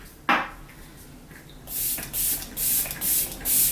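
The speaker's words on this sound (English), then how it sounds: "I'm gonna spray my face using the e.l.f. Stay All Night Microfine Setting Mist." An e.l.f. Stay All Night Microfine Setting Mist is sprayed onto a face in a quick series of about five soft, close hissing pumps after a brief click and handling noise.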